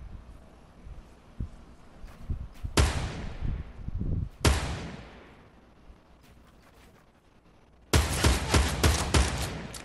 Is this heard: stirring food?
no